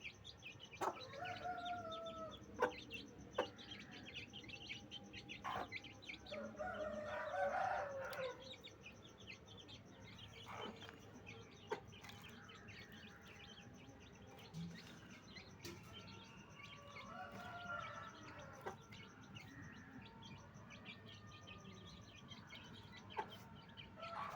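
Young chicks feeding on worms give scattered soft clucks and chirps over a steady, low background hum, with a louder burst of calls near the middle and no talking.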